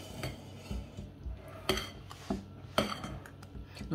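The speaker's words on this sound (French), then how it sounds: "Et on va rajouter la chantilly. Et on va mélanger tout ça." Whipped cream is folded into strawberry purée in a bowl for homemade ice cream, giving several soft scrapes and light clinks of a utensil against the bowl. The strokes are close but quiet, and no one speaks.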